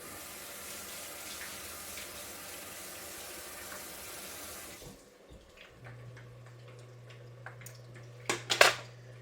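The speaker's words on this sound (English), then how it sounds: "I'm going to rinse this off real quick." Tap water running steadily in a kitchen sink as something is rinsed under it for several seconds, then the flow stops and a few dish and utensil clatters follow, close and moderately loud.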